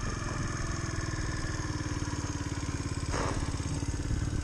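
Mash 50cc four-stroke motorcycle ridden on a road, its small single-cylinder engine buzzing steadily and close, with a brief rev change around a gear shift.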